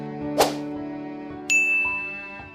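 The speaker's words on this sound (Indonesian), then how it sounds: "Suara notifikasi ponsel" A phone sounds a notification for an incoming WhatsApp message in a quiet bedroom. It is a bright metallic ding followed by a second clear chime that rings on and fades, close and alone with no voices.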